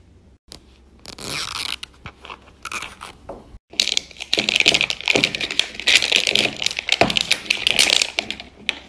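Plastic Mini Brands toy packaging being torn and unzipped by hand, a run of close, loud crinkling and crackling bursts that grows busier and more continuous in the second half, with no talking.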